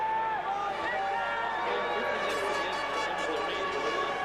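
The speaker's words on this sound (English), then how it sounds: "I'm not sure whether that's a jeer or a boo for the two Ferrari drivers" Large grandstand crowd at the 2002 US Grand Prix, booing and jeering the Ferrari drivers, a steady roar of massed voices with siren-like tones on top.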